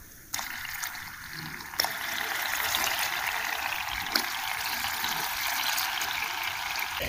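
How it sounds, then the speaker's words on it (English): Liquid mercury poured into a cold dish, giving a steady, soft trickling pour that starts abruptly and runs for several seconds with a few small splashy accents, close and moderately loud. "I can pour in some of the mercury."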